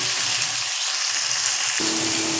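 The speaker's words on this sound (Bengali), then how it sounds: "এবার আমি ওই তেলের মধ্যে শুকনো লঙ্কা, পেঁয়াজ আর টমেটোটা একটু নাড়াচাড়া করে নেব।" Dried chillies, onion and tomato are stirred in hot oil for a matar paneer curry, giving a soft, steady sizzling hiss close by with a low thump near the end.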